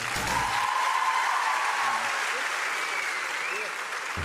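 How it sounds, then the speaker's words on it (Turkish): Steady audience applause in a televised talent show studio, continuous and fairly loud throughout, with brief voices and tonal sounds mixed in near the start and end. "Alkışlar Murat için."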